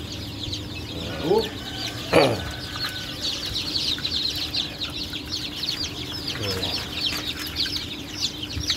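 Newly hatched chicks in an egg incubator chirp in a dense, continuous high peeping chorus, with an occasional lower cluck or call rising over it nearby.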